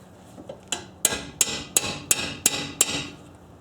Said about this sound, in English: just give it a good whacking with the hammer